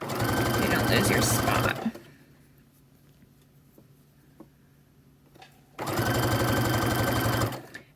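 A sewing machine stitches fabric for a scrunchie in two loud, close, rapid whirring runs separated by a quiet pause, with a short spoken remark in between.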